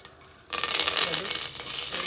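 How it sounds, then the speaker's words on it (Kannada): Mustard seeds and curry leaves hit hot oil in a home kitchen, bursting into a loud, steady crackling sizzle after a quiet start that keeps going to the end. "ಸಾಸಿವೆ ಹಾಕ್ತಾ ಇದ್ದೀನಿ, ಕರಿಬೇವು"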